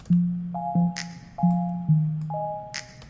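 Crisp finger snap samples land twice among soloed tonal bass and synth notes in a chill pop beat, each snap a short, bright click over the steady electronic tones.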